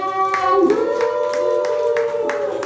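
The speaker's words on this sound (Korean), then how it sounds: "박수 한번 주시고요" Guests at a child's first birthday party clap in a steady rhythm over sustained tonal music, the claps close and even, running the full length without a break.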